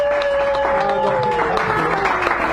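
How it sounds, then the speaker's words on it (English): Audience applause at an evening poetry reading in a San Francisco café, a steady wash of clapping that fills the room throughout, with a voice still speaking over it near the start. "Give her a round of applause."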